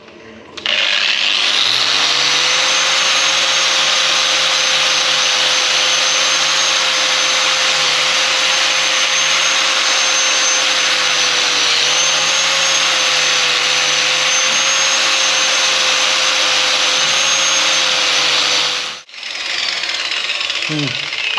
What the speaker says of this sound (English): Grinder and cut brush and clean this out inside.